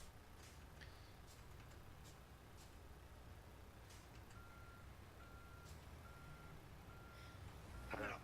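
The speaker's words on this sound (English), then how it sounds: "Finally putting the beeper back on." A truck's reversing beeper in American Truck Simulator gives a regular series of short mid-pitched beeps over a steady engine rumble, fairly faint under the drone.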